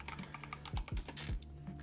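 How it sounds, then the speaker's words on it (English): Quick, light keystrokes on a computer keyboard, a short burst of uneven taps and clicks, close and quiet with no voices. "I'm just typing Jerome Powell speech."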